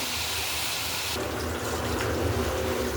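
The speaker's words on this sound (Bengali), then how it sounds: "এখন আমি এখানে ঝোল দিয়ে দিব" Water or gravy poured into a pan of beef curry being cooked down, a steady splashing gush that changes to a sizzling, bubbling pour partway through.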